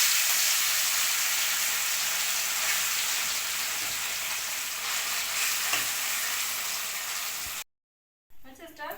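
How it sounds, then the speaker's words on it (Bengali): Small fish fry loudly in hot oil in a wok on a rainy day, a dense steady sizzle and crackle close up, ending abruptly with a short silence and a few faint clinks. "এবার কড়াই তেল দিলাম, তেলটা গরম হোক, তারপরে মাছ ভাজবো।"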